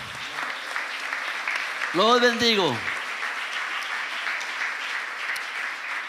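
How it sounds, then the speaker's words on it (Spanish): A church congregation applauds at the close of a sermon, a continuous crowd clapping heard throughout, with a voice briefly speaking over it midway. "Démosle ese aplauso fuerte al Señor en el nombre de Jesús."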